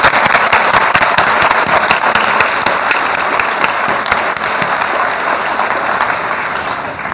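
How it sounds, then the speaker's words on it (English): A large audience of families, friends and teachers bursts into loud, dense applause at the Golden Horseshoe Awards, a sustained roar of many hands clapping at once with no letup. "Now we can applaud."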